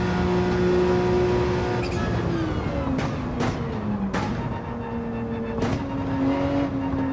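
A Porsche 911 in a racing game accelerating through its gears, a loud engine whine rising steadily in pitch, then dropping at each shift before climbing again, with sharp clicks at the changes.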